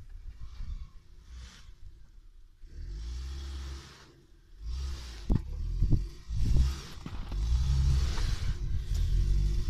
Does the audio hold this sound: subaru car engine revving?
yes